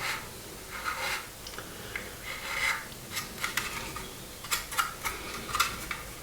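A file rasps against a hardened super glue bead on the plastic fuselage of an Airfix 1/24 scale Spitfire kit, in short, irregular, close scratching strokes with quiet pauses between them.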